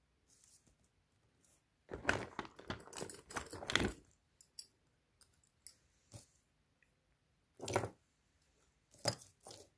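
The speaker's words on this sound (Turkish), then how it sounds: "Hemen gözlük şeklinde bir anahtarlık." A small glasses-shaped toy keychain, its key ring removed, is handled, giving faint, scattered plastic clicks and rattles, including a quick cluster of taps, with no talking.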